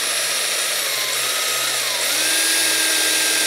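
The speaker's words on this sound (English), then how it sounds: "So we found the drill bit that's closest to the outer diameter of an airsoft barrel." A drill bit boring slowly into a plastic airsoft pistol part to fit the barrel, a steady continuous whine with a low motor hum, close and fairly loud throughout with no talk.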